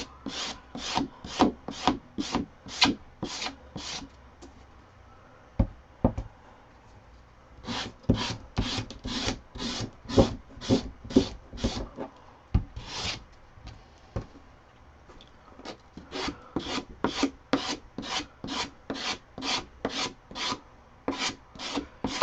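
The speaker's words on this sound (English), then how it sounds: "Don't sand all across it." Wood is sanded by hand for a pantry organizer in rapid, even back-and-forth rasping strokes, grouped in bursts with short pauses, close and moderately loud, with no talking.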